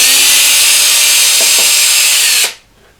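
A power screwdriver whirs loudly and steadily up close while backing screws out of the back panel of a VOX AC30 amplifier, with a few faint clicks, then stops abruptly into near silence.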